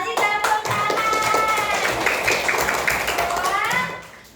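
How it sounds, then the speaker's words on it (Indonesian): A classroom of students claps together after a pupil asks about the features of halal food, a dense, steady patter of many hands that runs loud for several seconds before tapering off, with some voices mixed in. "terima kasih tepuk tangan"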